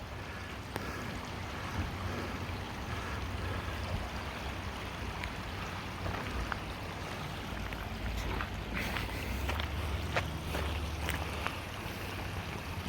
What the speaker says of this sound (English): See the creek there?